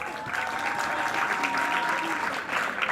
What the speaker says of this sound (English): Please give Dr. Singh a round of applause